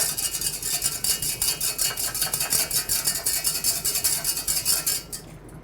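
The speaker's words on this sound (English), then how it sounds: "incorporating it and whisking continuously" Butter sauce being whisked continuously in a pan, the whisk scraping and clinking against the metal in a fast, steady rhythm that stays up close and never lets up, with no talk over it.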